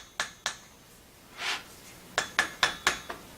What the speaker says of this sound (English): taking a rubber mallet, and just tapping the hand wheel several times